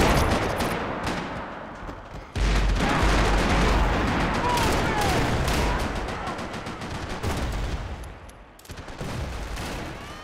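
Gunfire in Max Payne 3 multiplayer rolls as loud, dense bursts and rapid shots, continuous and cluttered, with someone narrating over the action.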